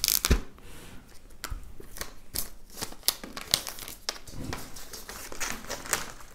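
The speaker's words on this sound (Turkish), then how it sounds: "Artık bence paketi açabiliriz." A new white iPhone box being unpacked, with steady close crinkling and rustling of packaging, dense small crackles and a few sharper snaps throughout.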